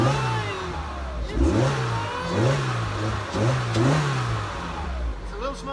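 A Peugeot 205 GTI track car engine starts and revs repeatedly, each rev rising and falling in pitch with a steady rhythm, loud and close.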